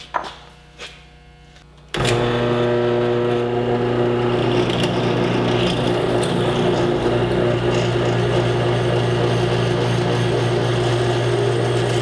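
After a few faint clicks, a handheld power drill starts abruptly and runs at a steady, high-pitched whine for the rest of the stretch, close and constant, drilling out a broken metal brake bleeder valve.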